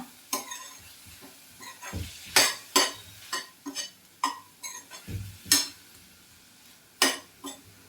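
Masala for Hyderabadi dhaba-style paneer gravy is fried and stirred in a pan, with a spatula clanking and scraping against metal in repeated sharp strokes over a low, steady sizzle.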